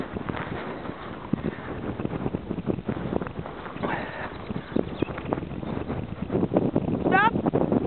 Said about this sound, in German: Ziemlich windig.